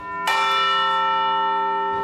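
A large clock tower bell striking part of the quarter chime, one loud, clear metallic strike ringing out with a long sustained hum of overtones that slowly fades, heard alone and close.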